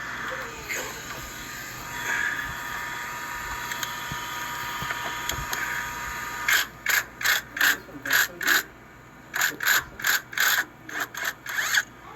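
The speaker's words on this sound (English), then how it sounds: "impact wrench to remove this nut" Impact wrench removing the 14mm tensioner nut on a 2006 Nissan Sentra, a quieter stretch of faint mechanical clicks giving way to loud rapid hammering bursts, repeated on and off up close.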